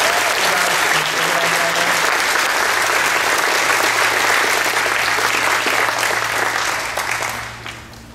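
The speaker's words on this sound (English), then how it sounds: "So let's give them a big round of applause." Loud, sustained audience applause from a large crowd fills the room with dense clapping, holding steady for several seconds before tapering off at the end.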